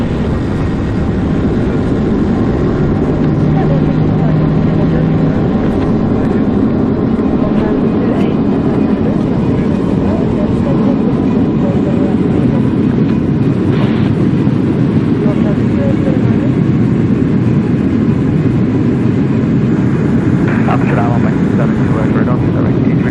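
Simulated engines of an easyJet Boeing 737 roar during the takeoff roll in X-Plane 11, a loud, continuous low rumble and whine that stays steady throughout, with voices talking over it at times.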